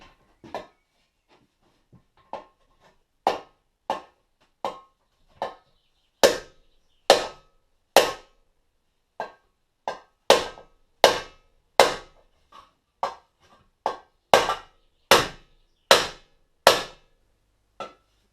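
A hammer strikes a sheet-metal fuel tank panel for a Panther Model 50 motorcycle, working dents into it: about twenty sharp, ringing blows at an irregular, unhurried pace, close and clear with no talking.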